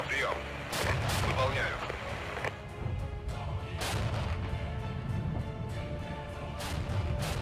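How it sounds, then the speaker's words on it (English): Artillery barrage in the Regiments strategy game, with repeated heavy booms and crashes rolling over a dense battle din, several sharp blasts standing out near and loud while a voice talks over part of it. "Artillery."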